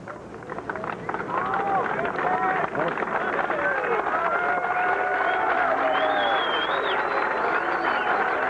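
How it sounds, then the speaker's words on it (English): An outdoor golf gallery applauds Fuzzy Zoeller at the 1984 U.S. Open, with a broad, sustained wash of clapping from a large crowd that swells after the first second, and cheers and chatter mixed in. "it'll be all ceremonial applause as he approaches each green from now on for Fuzzy Zeller"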